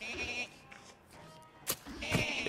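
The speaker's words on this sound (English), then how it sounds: "Oh yeah, we got the goats here." Goats bleat in the video game Don't Starve Together, a few short nasal cries, one sharper and louder near the end, over a soft in-game ambience.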